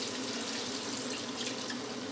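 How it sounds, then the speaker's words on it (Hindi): Water pouring into a pan of keema and potatoes cooking Punjabi-style, a steady close splashing rush that continues evenly throughout, with no talk. "अब हम इसमें पानी डालेंगे आलू गलाने के लिए"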